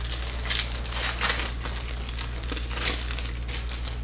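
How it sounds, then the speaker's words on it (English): A foil hockey card pack wrapper being torn open, a close burst of crinkling and ripping in several rough strokes over a steady low hum. "And rip. Just a quick little pack."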